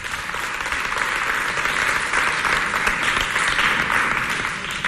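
A crowd applauds youth coordinators from two parishes after a holiday match between the Sainte Espérance de Walia and Sainte Mère coordinations, a dense, steady roar of many hands clapping that holds loud and even throughout.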